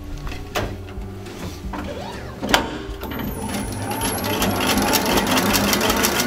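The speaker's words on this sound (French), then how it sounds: "On va fixer ce mélange au batteur mélangeur." A stand mixer whips Italian meringue made with sugar syrup heated to 105 degrees, starting with scattered clicks and clunks before the motor settles into a steady, close mechanical whir that grows slightly louder.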